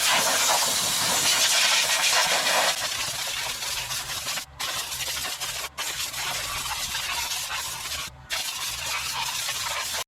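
Compressed air from a shop hose blows hard and steady on a hay farm, a loud continuous broadband hiss with a few brief cutoffs where the nozzle is released, no talking.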